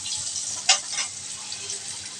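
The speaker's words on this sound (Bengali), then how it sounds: "আমার আলুগুলো একটু মিডিয়াম ভাজা হয়ে গেছে" Potatoes sizzle softly in a pan, fried to a medium stage for a thin magur fish curry, with a brief scrape or clatter near the start. The hiss is constant and fairly quiet, and there is no talking.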